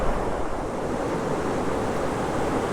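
Gusty wind roars across the microphone on an open beach while surf washes in behind it, a loud, steady, unbroken rush with no voices.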